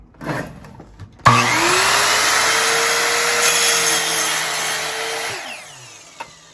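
A miter saw cuts through material clamped firmly to its base. The motor starts abruptly, then gives one loud, close, steady whirring cut for about four seconds before spinning down. No one speaks.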